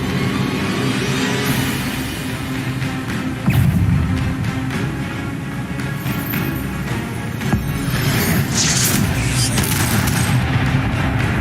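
Spells such as Accio and Incendio being cast in a video game, a dense stream of crackling, whooshing bursts and thuds with repeated sharp impacts around four and seven and a half seconds, loud and continuous throughout.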